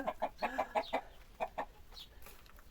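Chickens clucking in a new coop, a burst of repeated clucks close by in the first second and a half, then quieter scattered calls fading out.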